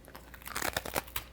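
A crunchy Pepperidge Farm cookie with a dark chocolate middle is bitten and chewed, giving a quick run of crisp, close crunches in irregular bursts, fairly soft, with no talking.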